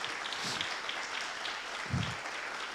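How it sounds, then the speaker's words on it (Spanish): A church congregation gives applause after a Bible reading, a steady wash of many hands clapping at moderate distance, with no one speaking over it. "¿Qué tal si le damos un aplauso a la palabra de Dios?"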